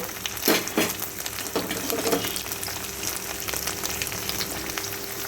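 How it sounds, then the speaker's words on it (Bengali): Fish roe frying with chopped onion in a pan, a steady sizzle and crackle throughout with a few louder spatula scrapes and stirs near the start. "মাছের ডিম দিয়ে এটাকে ভালো করে পেঁয়াজের সাথে মিশিয়ে ভেজে নেব"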